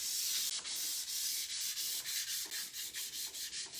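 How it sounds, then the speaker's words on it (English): Fine 1000-grit sandpaper rubbing back and forth over painted furniture in a steady rhythm of soft, hissing strokes, close up and quiet. "I'm taking my 1000 grit sandpaper and just gently rubbing it over my entire piece"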